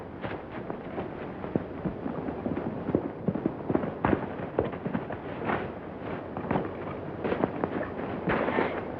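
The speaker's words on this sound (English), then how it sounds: "Butch Martin shot him" Gunfire in an old western film, a dense string of sharp cracks and pops that keeps going for several seconds over a muffled, narrow-band soundtrack.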